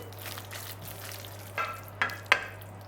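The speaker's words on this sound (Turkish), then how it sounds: "Şimdi hazırladığım kavurduğum karışım içine katıyorum. Şöyle bir karıştırayım." Fried mixture being stirred into yogurt in a bowl, heard as quiet scraping and mixing with three sharper clinks of a spoon against the bowl near the end, close and alone.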